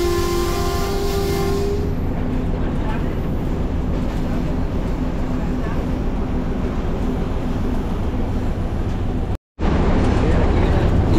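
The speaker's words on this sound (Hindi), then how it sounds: "45 पे जा रही है ट्रेन, और काफ़ी पुराने ये लोकोमोटिव हैं।" An old Pakistan Railways locomotive heard from the cab, running at about 45, opening with a horn blast and then settling into a loud, steady rumble and clatter.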